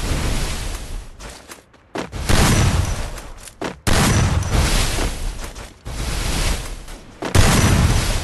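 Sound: gunfire from a video game shooter

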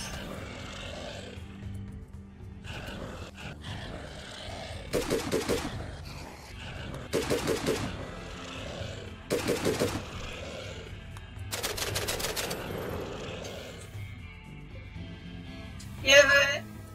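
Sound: machine gun fire in video game RimWorld

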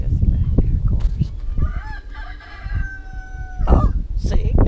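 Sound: roosters and chickens crowing and clucking on a farm

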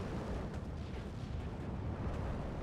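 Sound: anti-aircraft flak guns firing, from video game Steel Division 2

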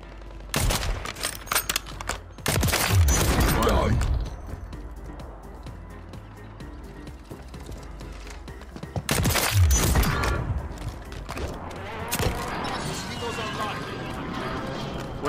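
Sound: sniper and gunfire in the video game Warzone 3

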